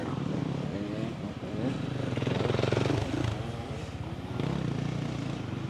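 A motocross dirt bike rides off-road, its engine droning and rising and falling with the throttle, fairly close and continuous for several seconds.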